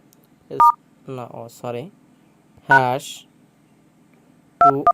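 Phone keypad tones beep as a code is dialed, short bright presses in a quick cluster at the start and end, with a person talking in between.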